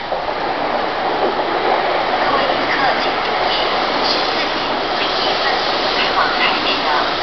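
A Taiwan High Speed Rail 700T train pulls into Taichung station, a loud, steady rushing rumble of the trainset rolling along the platform with continuous wheel and air noise.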